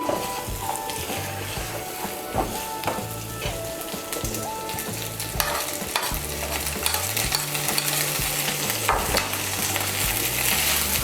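Potato chop filling mixed with turmeric powder is stirred in a hot pan, the spoon scraping rhythmically against the metal over a steady frying sizzle, close and continuous with no talking.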